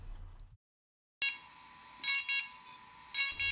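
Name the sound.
DJI Inspire 1 drone beeping during firmware update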